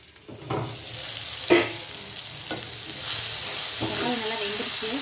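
Tomatoes sauté with a little salt in a pan for a chicken gravy, giving a steady close sizzle broken by a few spoon-stirring scrapes and clatters.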